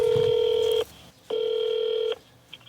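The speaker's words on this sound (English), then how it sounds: "Let's give them a call real quick." Two long, loud electronic ringback tones from a telephone call, each lasting under a second with a short silent gap between them, heard close and clear without talk.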